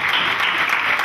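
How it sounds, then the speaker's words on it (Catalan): Crowd applause at a Festa Major festival, a dense, continuous clapping that stays loud and close throughout with no break. "un fort aplaudiment pel Jordi."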